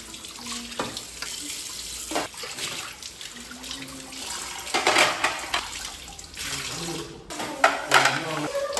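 Running water from a tap splashes into a sink with intermittent clinks of dishes being rinsed, fairly close and steady throughout.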